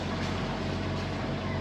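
A sailboat motors out from Lipari under engine power, a steady low rumbling drone mixed with wind and water noise, close and constant with no voices.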